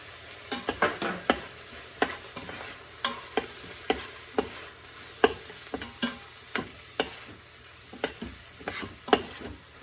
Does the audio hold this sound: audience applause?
no